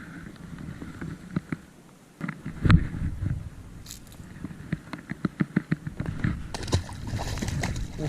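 Water splashes and sloshes up close as a red-eye shad leaps beside a fishing boat, a burst of thrashing followed by a run of quick wet slaps and knocks, with faint background noise.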